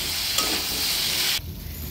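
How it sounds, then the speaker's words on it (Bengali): Chopped potatoes and carrots fry in hot oil with salt and turmeric, a loud, steady sizzle and hiss that cuts off sharply near the end, leaving a quieter low rumble. "হলুদ দিয়ে ভালো করে ভেজে নেবো।"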